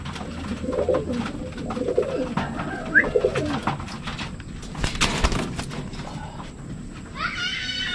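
Racing pigeons coo in a loft while being prepared for a club race, with soft low calls and scattered bird sounds nearby, plus a few brief sharper noises and faint background activity.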